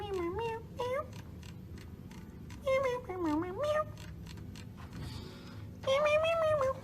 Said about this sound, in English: Meow, meow, meow, meow, meow.